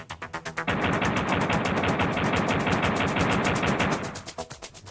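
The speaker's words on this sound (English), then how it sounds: "Then return to the game and fire some bullets." Duke's gunfire in a Nintendo 64 game, rapid synthetic shots in quick succession, sparse at first, then a dense sustained burst for several seconds before thinning out again, loud with no talking.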